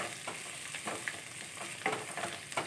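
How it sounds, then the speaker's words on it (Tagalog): Beef with dried mushrooms sautéing in a pan, with a soft continuous sizzle broken by repeated scraping stirs of a utensil, close and fairly quiet. "Ayan, haluin natin, gisa-gisa."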